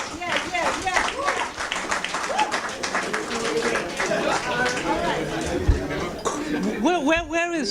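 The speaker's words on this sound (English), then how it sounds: "Give her a round of applause." A crowd at a London 2012 Olympic team event claps for a 400 meters runner, with scattered applause mixed under lively chatter and voices calling out.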